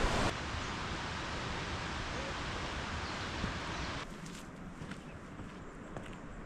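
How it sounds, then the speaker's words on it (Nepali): A river rushes far below a suspension bridge on a mountain trek near Sikles, Nepal, a soft steady hiss of flowing water that drops slightly in level partway through, with faint steps on the bridge. "तल खोलाको आवाज सुनिरहेको छ"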